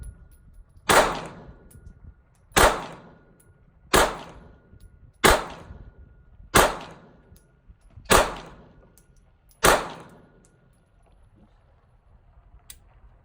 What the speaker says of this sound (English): I'm going to shoot at the bottom right,